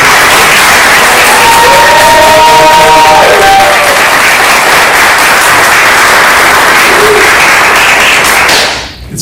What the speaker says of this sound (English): First, we'll give her a round of applause.